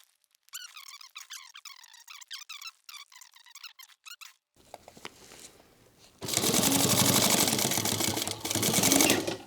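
A sewing machine stitches a 1/8 inch seam on a handmade sling crossbody bag, running steadily and loudly for a few seconds after a stretch of squeaky, chirping handling sounds and brief mechanical clicks.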